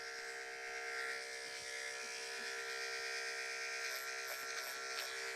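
Electric hair clipper buzzing steadily close by during a boy's clipper-over-comb haircut, blending a taper near the hairline, with a continuous whine and slight shifts as the blade moves through hair.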